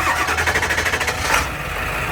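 A cold Ford 7.3 Powerstroke diesel in an E350 Super Duty van cranks with a rapid rhythmic chugging, then catches and settles into a rough, loud rumbling idle close by, with no voices.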